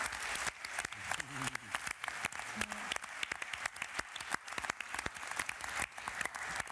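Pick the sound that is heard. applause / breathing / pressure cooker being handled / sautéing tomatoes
applause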